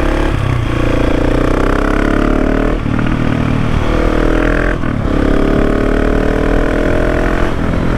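A 2019 KTM 690 SMC R motorcycle fitted with a Wings aftermarket exhaust idles loud and close, its throaty engine note rising in about three sharp rev blips before settling back each time, with no talking.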